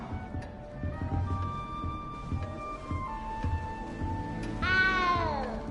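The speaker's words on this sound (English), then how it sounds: "You don't need to be frightened, little cat." A cat in the video game Hogwarts Legacy gives a single clear, drawn-out meow near the end, heard against a quiet ambient music bed with faint tones.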